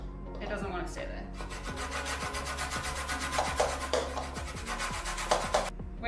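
A lemon is rubbed against a zester over a bowl, giving a steady series of rasping scrapes with a few louder strokes near the end. No one speaks over it.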